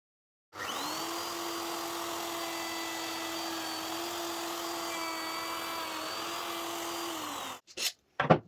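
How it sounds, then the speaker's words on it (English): A wood router fitted with a dovetail bit makes a single final pass through wood, a loud steady high whine held for about seven seconds before winding down, followed by a few short bursts of noise. "I switch to the dovetail bit in my router and reset the depth for a final single pass with this router bit"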